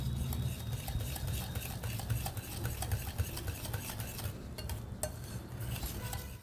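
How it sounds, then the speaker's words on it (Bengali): Powdered sugar and chaat masala being whisked into a coffee lassi mixture, a steady scraping stir with faint clinks of utensil against bowl, continuous and close, no voices. "একটু গুঁড়ো চিনি, সব আমি ভালো করে ফেটিয়ে নেব।"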